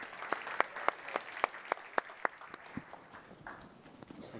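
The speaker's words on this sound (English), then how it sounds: "can we get a round of applause for them both" Steady, evenly spaced clapping from a small conference audience that thins out and fades toward the end.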